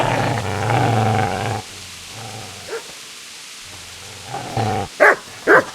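A dog in the medieval role-playing game Kingdom Come: Deliverance growls in a low, rumbling stretch, then after a quieter pause lets out two sharp, loud barks close by near the end.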